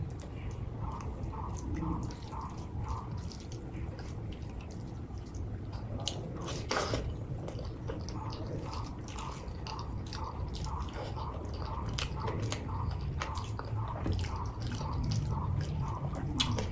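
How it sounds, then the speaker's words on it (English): Eating a meal of very spicy mutton curry with Dehradun rice, bharta, dal, papad and salad, giving steady close-up chewing, squishy bites and occasional crunches with no talk. "So guys, let's start eating."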